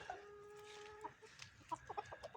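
Farm hens cluck and call nearby in short, irregular bursts, with a sustained vocal note at first and then a series of quick clucks near the end, fairly faint overall.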